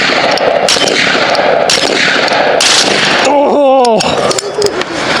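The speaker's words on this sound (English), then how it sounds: "Backwards ammo, put it in the breech, shoot the gun." A BinTac S45 Mini semi-auto .45 caliber airgun fires with a short sharp crack among clattering handling noises, followed by a brief rising and falling voiced exclamation, loud and close.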